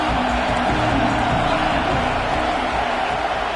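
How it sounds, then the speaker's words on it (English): Crowd roaring in the stadium of an American football video game, a dense, steady wash of cheering that stays loud throughout. "This crowd knows when to bring it."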